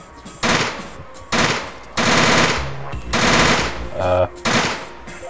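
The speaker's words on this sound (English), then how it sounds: "I haven't even tried out my mini Gatling gun yet." A mini Gatling gun from a Teleglitch mod fires in several loud, dense bursts of rapid shots separated by short gaps, with other game effects mixed in between bursts.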